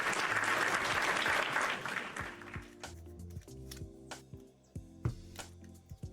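A canned applause sound effect fired by a chat command on a livestream: a loud burst of clapping that fades out after about two seconds, followed by quieter background music with light ticking percussion.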